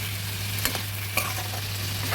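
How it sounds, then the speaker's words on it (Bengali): Vegetable stalks being stirred as they cook in a covered pot for a rohu fish curry with potato, a soft steady sizzle with a couple of brief scraping stirs and a low constant hum beneath. "নেড়ে ডাঁটাগুলো সেদ্ধ করে নেব।"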